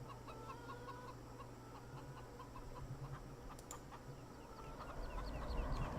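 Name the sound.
chickens clucking in video game Farming Simulator 17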